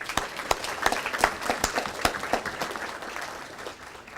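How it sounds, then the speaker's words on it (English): Applause from the audience at a press club Hall of Fame awards evening, a dense patter of many hands with sharper individual claps standing out, fairly close and steady, tapering slightly toward the end. "Please give them a round of applause"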